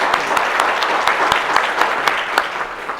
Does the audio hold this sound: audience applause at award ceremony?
yes